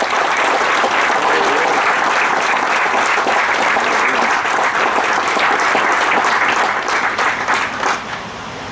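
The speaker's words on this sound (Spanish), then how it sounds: "Denle palmas al Señor si me hace un favor." Church congregation clapping together during a Spanish-language service, a dense, steady wash of applause lasting the whole stretch and thinning slightly near the end.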